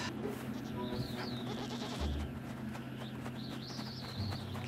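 Goat bleats sound in the video game Blanc against steady ambient game sound. A couple of wavering calls come with faint bird-like chirps in the background, and there is no talking.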